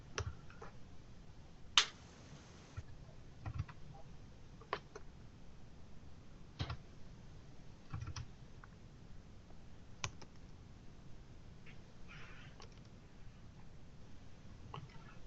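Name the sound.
typing on a computer keyboard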